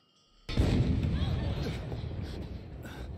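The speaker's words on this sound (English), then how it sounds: "Cannon fire!" After a brief near-silence, a heavy boom bursts out and rolls into a long, rumbling decay with crackling debris.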